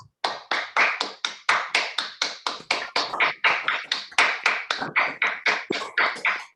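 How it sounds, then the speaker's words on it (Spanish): Online applause for a doctor after a talk, a single close set of hands clapping in a brisk, even rhythm of sharp claps, about four per second, clean and alone without voices. "así le damos un fuerte aplauso"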